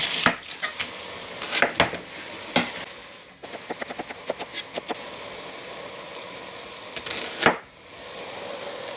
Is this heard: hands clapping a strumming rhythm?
no